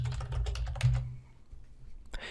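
Fingers tap on a computer keyboard in a quick run of clicks while entering text into a table cell, close and clear, pausing briefly before a final keystroke.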